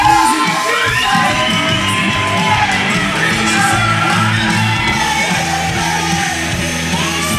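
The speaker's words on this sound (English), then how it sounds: "listen to this crowd here" Live wrestling show crowd cheering loudly and continuously, a dense roar of shouts, whoops and yells from many people filling the arena throughout.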